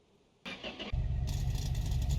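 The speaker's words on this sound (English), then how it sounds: "I'm gonna try to rev it up a little bit and see what happens." A car engine on a dyno in a home garage catches and revs up, a loud, sustained mid-pitched roar that jumps in stages and holds steady, heard close with no talk.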